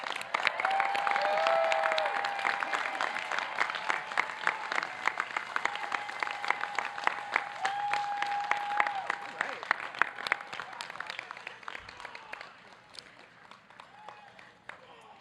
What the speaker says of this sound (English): I was just giving you permission to applaud those who have just received the BA degree